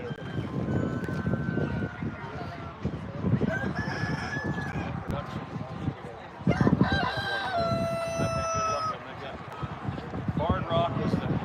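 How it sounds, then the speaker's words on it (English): A barnyard rooster crows several times among a flock of mixed chickens, rising calls ringing out over clucking and farmyard noise, while a person talks nearby. "Barn Rock is the rooster."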